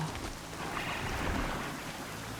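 Steady rainstorm in the video game Horizon Zero Dawn, a continuous wash of falling rain with a low rumble underneath, fairly even and unbroken throughout.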